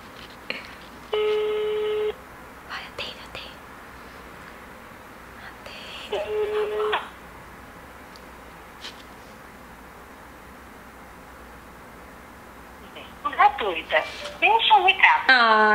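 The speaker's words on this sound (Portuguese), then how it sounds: "Agora eu vou ligar pra Camille" Outgoing phone call ringing unanswered, with repeated ringback tone bursts separated by quiet gaps, followed by brief electronic call tones near the end.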